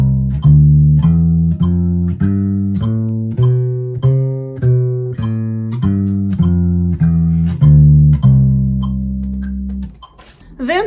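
A bass guitar plays a scale of round, sustained notes in steady time at 100 BPM, with faint metronome clicks under the notes and a brief noise at the end.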